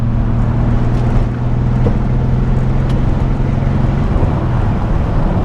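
A barn-find Datsun 280Z, back on the road after 18 years off it, drones steadily at close range with strong low engine harmonics and wind buffeting as it pulls through the gears.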